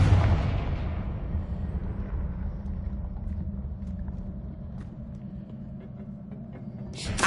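A Confringo blasting spell explodes in Hogwarts Legacy, a loud close blast that fades into a long, deep, rumbling decay, ending with a brief new burst of sound.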